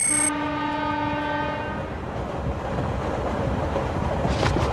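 In a Doraemon cartoon, a loud train horn sounds at the start and sustains for about two seconds, then gives way to the steady rumble and clatter of a moving train, with no one speaking.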